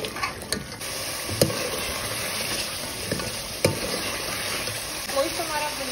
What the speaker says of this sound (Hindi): हमारा जो गोश्त है ये भुन रहा है